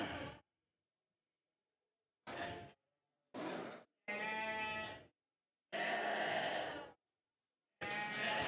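Poll Dorset sheep at a championship show bleat in a series of separate, loud, close calls, some short and some drawn out, with silent gaps between them and no talk.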